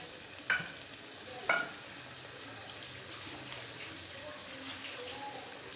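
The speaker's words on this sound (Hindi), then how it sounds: "अब ये भून रहे हैं, ऐसे अच्छी तरह भूना जाएगा।" Meat and potatoes frying with yogurt in a pot for chicken aloo shorba, a steady soft sizzle with a couple of sharp clinks of a stirring spoon near the start.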